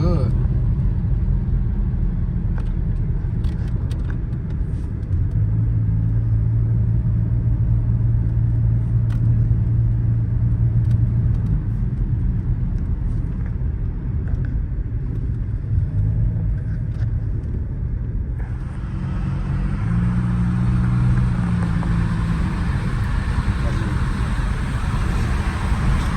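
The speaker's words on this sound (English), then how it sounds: "if you got an older model V6 Challenger, that mid muffler delete sound freaking good" Older-model Dodge Challenger SXT V6 with a mid muffler delete, its exhaust droning continuously from inside the car while driving, swelling louder near the end; people talk over it.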